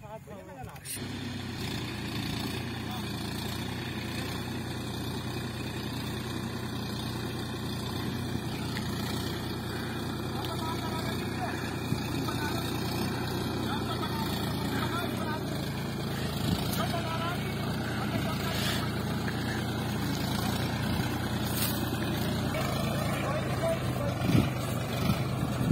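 A Mahindra 275 DI tractor engine runs steadily throughout with a constant low diesel drone, fairly close, with faint clanks and background noise over it, hauling a heavy load of sugarcane uphill out of a field.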